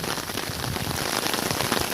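Steady rain pours around a shelter in botanical gardens, a dense continuous hiss of drops pattering on surfaces close by, with no voices.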